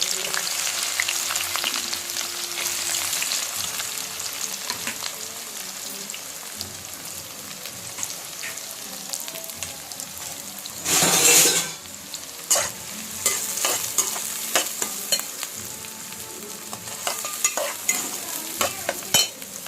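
Chopped onions and green chillies frying in hot oil for a prawn gongura curry, a continuous crackling sizzle with stirring clatter and a louder burst of spattering midway, close with no talking.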